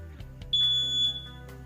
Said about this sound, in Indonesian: saya membuat sebuah alarm pintu berbunyi sesaat.